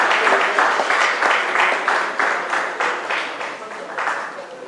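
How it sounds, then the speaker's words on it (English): An audience at a civic cultural evening applauds the mayor. The clapping is dense and sustained, swelling in repeated surges and tapering slightly toward the end. "And another round of applause for His Worship."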